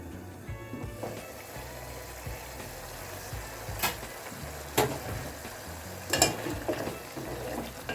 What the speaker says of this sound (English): I'm going to let this cook till my beef is tender